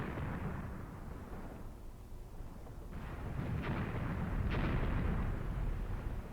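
Artillery fire from the Graviteam Tactics wargame at the Vinyagolovo battle rolls in as deep, sustained booming rumbles, with a couple of sharper blasts swelling louder partway through and no voices.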